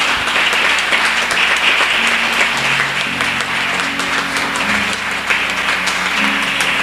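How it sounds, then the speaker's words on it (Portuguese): A church congregation claps and applauds steadily for several seconds. The clapping is dense and continuous, with faint murmuring and a sustained low background tone beneath. "Aplauda o Senhor."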